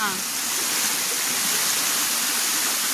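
A waterfall in a forest stream roars as a steady, loud broadband rush of water that fills the whole stretch without a break.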